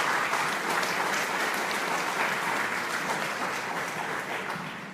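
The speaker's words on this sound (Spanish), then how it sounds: "Un aplauso fuerte." A church congregation claps steadily through a sermon on gender ideology, a dense, even wash of applause that holds strong and tapers slightly toward the end with no voices over it.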